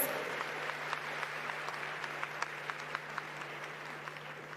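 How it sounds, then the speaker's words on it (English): Sustained audience applause at an Africa summit gathering at KICC in Nairobi, a dense steady wash of clapping with scattered sharper individual claps, fairly distant and continuous throughout. "Let's give them a warmer round of applause."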